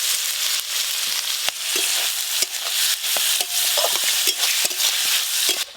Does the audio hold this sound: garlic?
yes